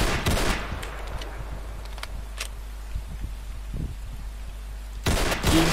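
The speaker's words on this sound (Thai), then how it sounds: "ปืนคาร์บิน เรียบร้อยผมชอบเสียงกิ้งของมันจริงๆเลย" Carbine rifle gunfire in Roblox War Simulator, a World War II battle game: a loud burst of rapid shots opens, a few faint scattered pops follow, then another sharp close burst ends it.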